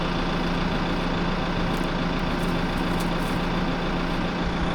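Steady, loud engine drone of a farm tractor idling close by in a sheep field, a continuous low rumble that holds unchanged throughout with no voices.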